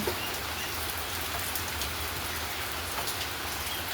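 Heavy rain falls steadily and continuously, a dense, even hiss of drops close by with no pauses.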